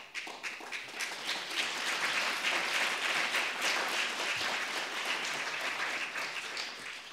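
Sustained applause from an evening audience at the 2018 Newton Prize ceremony in London, a steady, full wash of many hands clapping throughout with no speech over it.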